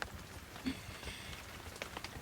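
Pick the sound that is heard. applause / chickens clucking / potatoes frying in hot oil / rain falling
rain falling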